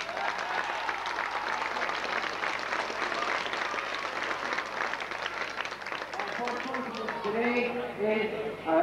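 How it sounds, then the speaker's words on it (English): A crowd at a minor football championship final replay applauds both teams, steady mid-distance clapping throughout, with a voice talking over it toward the end. "I'll ask you to join in a good round of applause for both teams"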